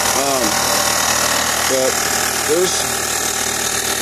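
An engine fueled by wood gasifier gas runs at a steady, loud idle with a constant drone, while someone talks over it.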